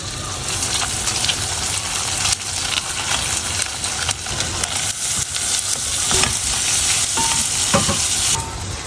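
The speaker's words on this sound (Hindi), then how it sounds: "जब बटर गर्म हो जाएगा तब इसमें सबसे पहले हम डालेंगे अनियन" Onion sautéing in hot butter in a pan, a steady loud sizzle and frying hiss with stirring scrapes throughout, no voice.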